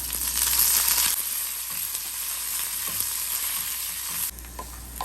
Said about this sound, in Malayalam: ആ ഉള്ളിയും കറിവേപ്പിലയും കൂടെ അങ്ങോട്ട് കൊടുക്കാം